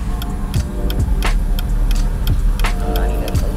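Loud car engine noise in slow city traffic, a steady low rumble with a few sharp ticking clicks repeating at a regular pace, heard up close from inside a stopped car.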